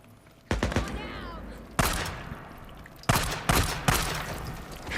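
Rapid gunfire in the video game Days Gone, with several loud bursts of shots at close range separated by short pauses and a lingering rumble between them.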